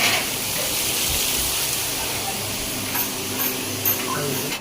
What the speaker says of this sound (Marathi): हा हलवा फ्राय चालू आहे आणि तिकडे कोळंबी फ्राय चालू आहे